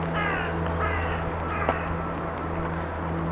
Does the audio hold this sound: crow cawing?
yes